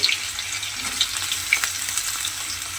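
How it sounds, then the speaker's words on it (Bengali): Pieces of bitter gourd frying in hot oil in a home kitchen, giving a steady close sizzle with scattered sharp crackles and pops throughout. "করলাগুলোকে তেলের মধ্যে দিয়ে"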